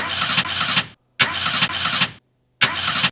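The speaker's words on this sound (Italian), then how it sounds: "Madonna che rombo, pare un apparecchio sto motore" Tractor engine cranking and catching in three loud bursts, each firing up into a rough, roaring run and then cutting off into silence before the next attempt.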